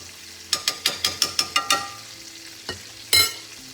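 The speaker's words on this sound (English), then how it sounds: "scooping up the butter, and putting it, melted butter, and putting it over the fish." Salmon in a pan basted with melted butter, a run of quick sharp clicks and scrapes of a spoon against the pan over a low sizzle, then a couple of louder scoops, close with no voices.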